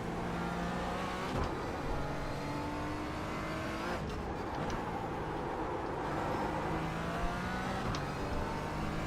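Race car engines in a video game endurance race on the Nürburgring 24-hour circuit drone loudly and continuously, the pitch climbing and shifting through gear changes as a faster car closes in.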